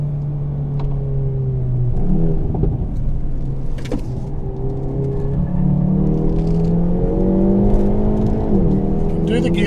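A Hyundai N car with a manual gearbox accelerates on an open road, its engine note rising steadily through the revs with a loud, close rumble from inside the cabin.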